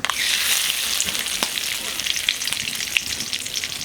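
Two bay leaves frying in hot white oil, a continuous close sizzle with small pops and crackles scattered through, steady and fairly loud with no talk.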